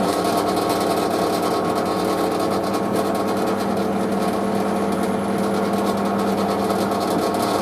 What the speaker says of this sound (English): To the drill press we go.